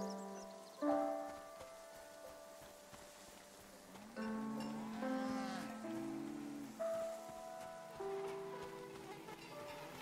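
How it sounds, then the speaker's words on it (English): Cow in the video game Season: A Letter to the Future, a few low drawn-out moos at moderate distance over soft rain-like ambience. "The cow is called Frenzy."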